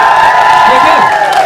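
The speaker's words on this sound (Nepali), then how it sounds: "हात माथि उठाएर ताली बजाउनु" A large cheering crowd at a film promotion event, loud and dense with shouts and clapping merged into a continuous roar.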